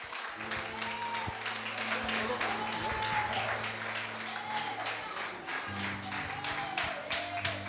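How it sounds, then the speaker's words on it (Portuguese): A church congregation claps for Jesus and God in a service, many hands beating in a fairly steady rhythm, with sustained keyboard tones underneath and voices faintly present. "vamos aplaudir a Jesus, vamos aplaudir a Deus"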